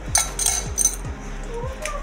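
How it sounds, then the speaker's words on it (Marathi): Ice cubes drop into a glass of raw mango panha with soaked sabja seeds, giving about five sharp clinks in quick succession, close and clear. "याच्यात आपण आता बर्फाचे क्यूब घालून घेऊया।"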